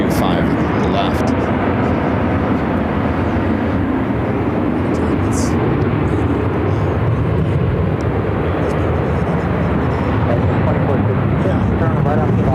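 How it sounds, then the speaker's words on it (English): A Dassault Falcon jet takes off on runway 25 left at Phoenix Sky Harbor, making a steady, loud broadband roar that fills the whole stretch. Voices talk over the engine noise. "We got a Dassault Falcon coming over. We're taking off on 25 left."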